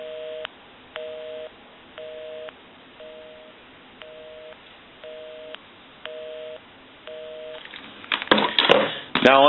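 A busy signal on a Western Electric 500 rotary telephone: about eight short, even tone beeps in a steady on-off cadence, closed by a loud burst of handling clatter.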